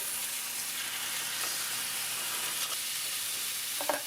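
Food sizzles steadily in a hot pan while it is flipped over during home cooking, a continuous bright frying hiss with a few soft scrape and clatter accents near the end.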